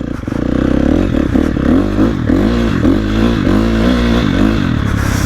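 KTM 250 two-stroke dirt bike engine revving hard and steadily while sliding sideways through snow, loud and close with rising and falling pitch throughout.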